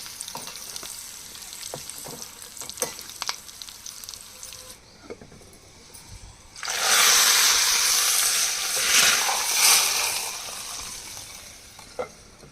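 Mustard seeds dropped into hot tempering oil in a kadai burst into a loud, dense crackling sizzle that holds steady for several seconds, after quieter clinks and handling noises nearby.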